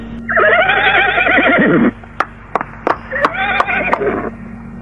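A horse neighing as a radio drama sound effect, a loud shrill whinny, then sharp hoof knocks and a second shorter neigh, all close and prominent.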